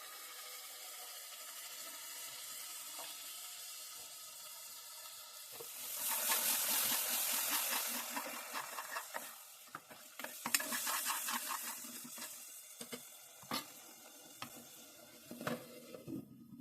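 Pureed tomato is added to frying masala for keema balls curry, bringing a sudden burst of sizzling, then repeated wet stirring and scraping in the pan with intermittent spatters, close and moderately loud.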